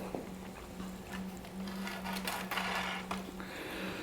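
A CNC plasma cutting table rehomes its gantry, giving a buzzing stepper-motor whine in short repeated pulses, close and moderately loud, with light clatter and no speech.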